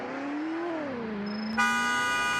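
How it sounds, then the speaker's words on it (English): A car horn in the Greenville driving game, a taxi-style car, sounds as one steady honk that begins abruptly partway through and holds to the end, loud over a continuous engine drone. "There's your horn, not a bad horn."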